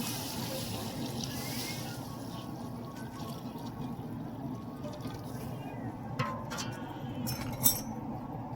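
Hot water is poured into a pot of village-style goat mutton cooking over a wood-fired stove, giving a soft, steady splashing pour with a few metal clinks near the end, fairly faint.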